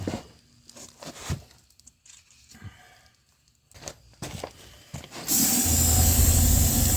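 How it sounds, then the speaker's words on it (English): Aerosol brake cleaner sprayed in a steady loud hiss onto a Ford tractor front axle, starting after scattered clanks and handling noises. "I am cleaning it with brake clean now"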